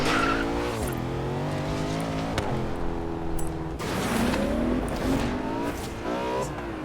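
Engines roar and tires squeal in a Forza Horizon 3 driving game, with continuous loud revving and rising and falling gear shifts as the car races along.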